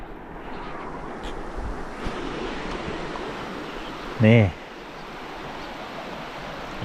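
Steady broadband rush of flowing water from Bo Sai Waterfall fills the background throughout, with a brief spoken word and a short whistle-like tone partway through.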